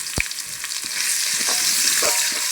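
Cinnamon and cardamom frying in hot oil in a pan, giving a brief, loud, dense crackling sizzle with a sharp pop at the start and a few stirring scrapes.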